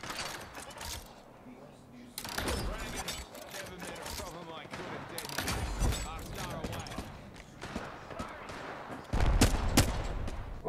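Repeated bursts of rapid gunfire crackle through an Apex Legends firefight, some shots nearer and heavier, with players talking over the shooting.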